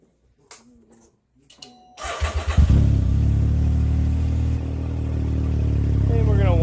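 A Can-Am Ryker three-wheeler starts up after an oil change, a few handling clicks first, then the engine catches and settles into a steady, loud idle close by.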